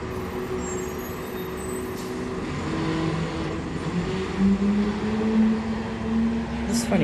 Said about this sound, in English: a waste truck.